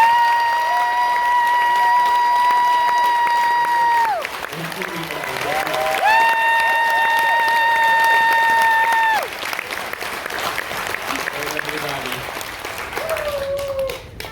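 Passengers aboard a cruise ship applaud the vessel's captain, clapping running throughout beneath loud, sustained whistle-like tones, with cheering mixed into the crowd noise.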